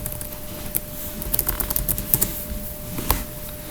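Typing on a computer keyboard: a close, fairly quiet run of irregular key clicks in short bursts with brief pauses, with no talking.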